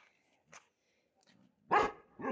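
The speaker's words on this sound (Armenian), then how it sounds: "դե գնա հաչո, հաչացիր, վերջացրեցիր" A dog barks twice in quick succession, loud and close, after a few faint scattered yips and soft noises in an otherwise quiet setting.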